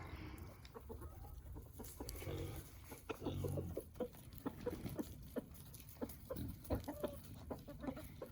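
A flock of chickens clucking continuously at close range, with short, scattered bursts of clucks and soft pecking sounds over a steady farmyard background.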